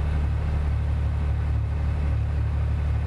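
Yamaha YXZ1000R side-by-side engine, not yet fully warmed up, making a steady low droning rumble throughout a short test ride, with no talking.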